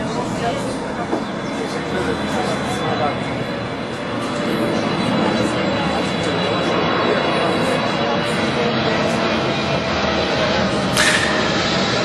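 A Turkish Airlines passenger jet lands at Istanbul Atatürk Airport, its engines making a loud, steady broadband roar that fills the whole stretch and grows slightly heavier midway through.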